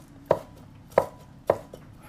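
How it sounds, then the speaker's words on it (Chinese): Peeled shrimp being diced with a knife on a cutting board, three sharp evenly spaced chops and a fainter fourth tap, close and clear. "虾仁去除虾线再切成丁"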